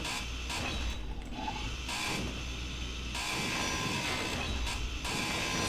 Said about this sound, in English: Let's grind it up anyway.